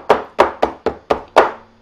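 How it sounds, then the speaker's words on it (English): A cake pan for a Texas funeral sheet cake is tapped lightly on a table six times in quick succession, each a short hollow thunk with a brief metallic ring. "That noise is me lightly tapping the cake pan on my table."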